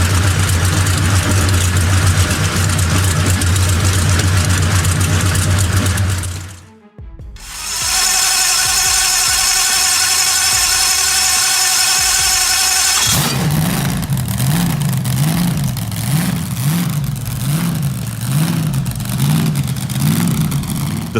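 The 500-horsepower engine of an M26 Pershing tank runs loud and rough nearby, briefly cuts out, settles into a droning tone, then surges in rhythmic rising and falling revs.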